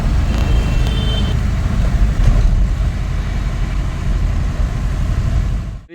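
A new mini truck's engine rumbles close by, idling and rolling steadily, with a couple of brief high beeps early on before the sound cuts off.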